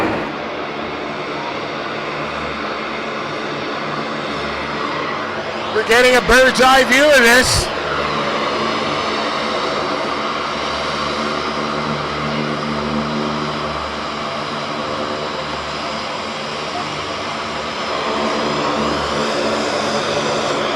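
A steady, loud C-130 propeller aircraft engine drones throughout, with a person talking over it and a brief burst of crackling noise partway through.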